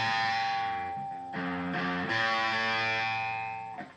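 An electric guitar plays a riff, a few sustained, effect-tinged notes changing pitch over several seconds, close and without voices.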